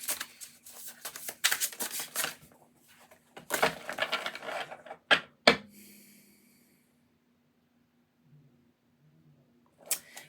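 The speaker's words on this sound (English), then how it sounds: "It's just like I need to shuffle this." A tarot card deck is shuffled by hand in several bursts of crisp riffling and flicking, close and fairly loud, with a sharp snap near the middle, then a quiet stretch with faint handling sounds.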